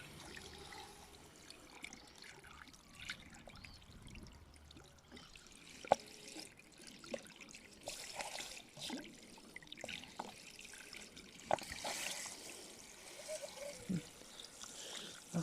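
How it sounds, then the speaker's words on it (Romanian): Tap water trickles and splashes steadily into a washing machine drum during a cleaning, fairly faint, with scattered clunks and knocks over it. "Să-i băgăm apă."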